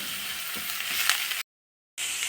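Onions sautéing in a pan for a dish made with idli dosa batter, a soft steady sizzle with faint stirring scrapes, briefly cutting out before the quiet frying resumes.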